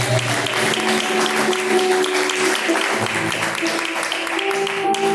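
Church congregation clapping in praise during a live evening worship service, continuous crowded applause over a sustained musical tone and background sound, steady and moderately loud throughout.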